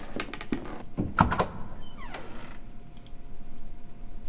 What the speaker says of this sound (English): The door has been opened.